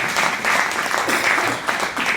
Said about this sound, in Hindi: एक बार तालियां बजा के